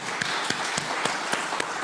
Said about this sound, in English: a great round of applause now for the organizers and the people involved in these great